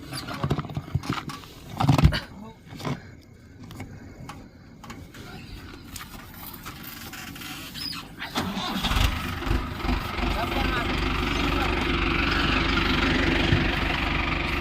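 A farm tractor engine starts up and settles into a steady, loud low rumble over the second half, after scattered knocks and handling noises, with people talking nearby.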